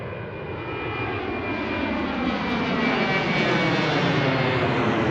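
A Southwest jet airliner takes off from runway 1 at Washington Reagan National Airport, its engines a loud, steady, broadband roar that builds gently over five seconds, with no talk.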